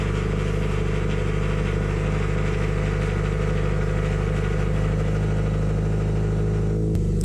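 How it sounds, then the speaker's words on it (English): A 2015-2019 Subaru WRX STI running on E85 idles steadily after a warm start, a loud, close, droning engine note with a rough pulsing rumble and a brief blip near the end, with no talking. "we're going to give the car a little good old warm start"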